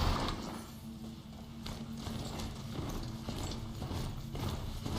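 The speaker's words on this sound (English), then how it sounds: "Going on my steed." Mechanical steed ridden in Horizon Zero Dawn, heard as a steady clip-clop of metallic hooves with whirring, clanking machinery underneath, continuous and fairly close with no talking.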